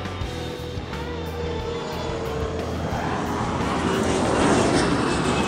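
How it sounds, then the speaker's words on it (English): An airplane passes overhead with a continuous broad engine roar that swells slightly louder toward the end, steady with no talk. "Oh, look at the airplane."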